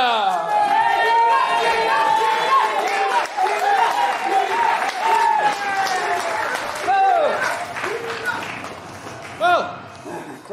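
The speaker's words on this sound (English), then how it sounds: "Well, the crowd are going wild." A theatre audience at Brixham Theatre claps and cheers at the close of a Ben Hur stage show. The applause is loud and continuous, with voices whooping over it before it eases off near the end.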